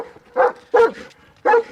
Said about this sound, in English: Now those are some guard dogs.